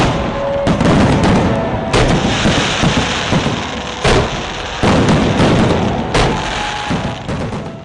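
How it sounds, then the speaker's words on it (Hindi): Fireworks bursting during a project inauguration ceremony in Jaipur, heard as loud, dense, continuous crackling and booming. Sharp, heavier bangs punctuate it every second or two, with no talk. "रंग बिरंगी रोशनी की सजावट और आतिशबाजी के बीच वसुंधरा राजे ने द्रव्यवती प्रोजेक्ट का उद्घाटन कर दिया।"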